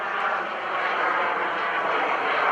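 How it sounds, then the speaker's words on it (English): An FLS Microjet, billed as the world's smallest jet aircraft, flies at an airshow, its engine a steady loud broadband roar that holds constant throughout with no voices over it. "We're having a really good time here on the world's smallest jet aircraft."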